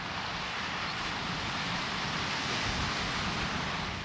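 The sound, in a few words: ocean waves on a New Zealand beach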